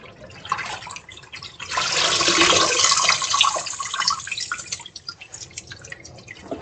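Freshly washed collard, mustard and turnip greens drip and splash in a kitchen sink, with a burst of running water and scattered close droplets following.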